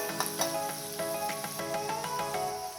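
Garlic and curry leaves fry in hot oil while okra bhaji is prepared, giving a steady close sizzle with crackling pops scattered through it.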